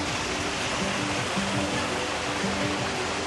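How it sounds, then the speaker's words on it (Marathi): Water flows steadily through a canal channel beside a small bridge, a constant broadband rush holding even and close throughout, with faint voices beneath. "साईडने इथं सगळं पाणी आहे, आणि वाहतं पाणी आहे"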